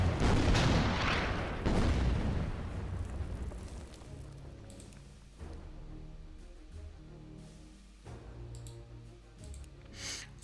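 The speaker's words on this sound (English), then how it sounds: "Keep up the bombardment of the defenders of that town" Artillery bombardment in the WW2 strategy game Order of Battle, pounding a defended town: loud booming blasts at the start and near two seconds, then rumbling decay with smaller impacts and clicks, no talk.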